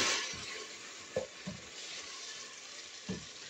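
Spaghetti sauce spiced with about two teaspoons of chili is stirred in a pan, a quiet steady simmer broken by a few soft spoon scrapes and knocks, close by and without speech.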